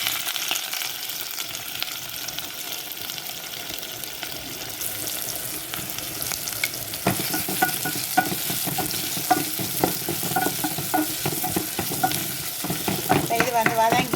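Onions and green chilies fry in oil with mustard seeds and fennel, a continuous close sizzle that grows louder midway, with scraping stirs and crackling pops toward the end.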